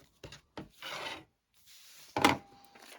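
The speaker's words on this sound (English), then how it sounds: "I'm going to go ahead and trim it away on the other side as well, just like this." Quilt fabric pieces trimmed for a Lotus Star block, giving short close scraping and rubbing strokes with brief pauses between them, quiet and without talking.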